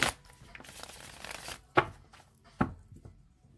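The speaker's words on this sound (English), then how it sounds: "Okay, so I'm going to shuffle this 3 more times." Tarot cards being shuffled: a run of riffling, papery rustle for about a second and a half, then two sharp, close card slaps spaced apart, with no talking.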